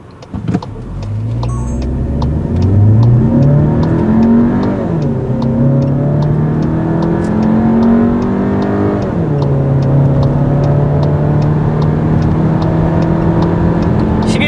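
A new Volkswagen Tiguan Allspace gasoline turbo SUV with an eight-speed automatic revs up hard and accelerates on a hot day, pitch climbing through gear changes with a loud, sustained roar and no talking.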